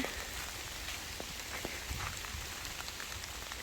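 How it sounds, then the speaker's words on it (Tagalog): Heavy rain falls steadily through an autumn forest beside a lake, a dense even hiss of drops pattering on leaves and ground, with no voices. "Lakas na ng ulan."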